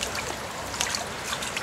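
Creek water trickles quietly and steadily, with small soft gurgles and splashes close by.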